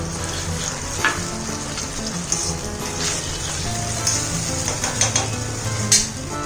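Chicken chilli with vegetables sautéing in a pan, a continuous close sizzle and crackle with scraping stirs and spatula knocks against the pan, steady and moderately loud, no talking.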